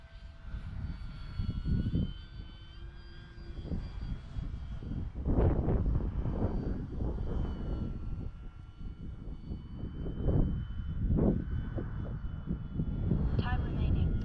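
An E-Flite T-28 1.2m RC model airplane on its maiden flight passes by with flaps and gear down, its motor drone rising and falling across several swells while someone talks over it throughout.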